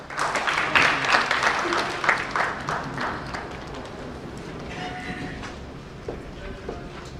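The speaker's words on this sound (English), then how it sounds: "So please give a big round of applause for Dr. Suresh Surana." Audience applause at a book launch, a dense burst of clapping that starts loud and gradually thins and fades toward the end, with a faint murmur of voices underneath.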